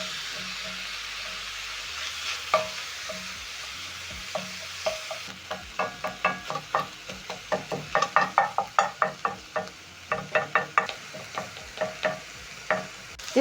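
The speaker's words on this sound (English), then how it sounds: "You're going to cook the meat for around 2 to 4 minutes while using a spatula to break down the meat." Minced beef frying in a pot for a one-pot pasta, with a spatula striking and scraping to break it up in quick rhythmic clacks over a continuous close sizzle; no talking.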